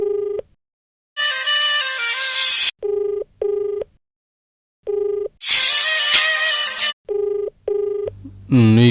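A telephone rings repeatedly in a domestic drama scene, short electronic ringtone bursts alternating with longer melodic chimes, loud and close, ending in a sweeping tone.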